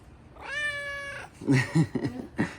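A cat gives a long, clear meow up close, followed by a person talking.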